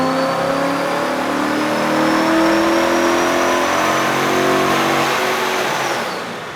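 Centrifugal supercharged 2015 Ford Mustang GT (S550) V8 revving on a dyno, a loud sustained engine roar climbing steadily with a rising supercharger whine, then easing off at the end.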